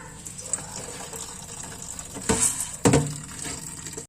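Water poured from a tap over dried kidney beans set to soak in a kitchen, a soft running trickle with two brief louder splashing bursts near the end.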